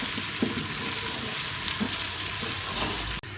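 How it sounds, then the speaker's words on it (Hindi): Ginger and garlic sizzle in a pan for a beef masala biryani, a steady close hiss of frying oil with faint stirring clicks, ending in a brief clunk. "अदरक लहसुन फ्राई हो चुका है।"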